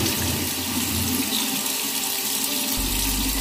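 Tap water runs into a sink to wet a makeup brush, a steady close splashing hiss with a shift in the low flow tone near the end, no voices.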